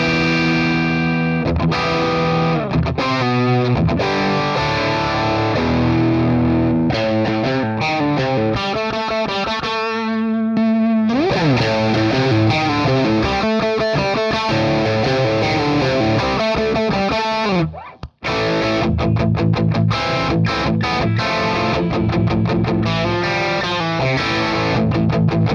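An electric guitar played through a modded Sovtek Bassov Blues Boy amp with heavy distortion, chugging rhythm chords and riffs loud and continuous, with one brief drop near the end.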